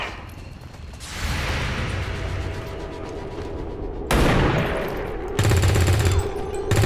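Sniper rifles fire in the video game XCOM 2 (Long War 2), a sustained volley of loud gunfire with a fresh burst of shots near the end and no voices.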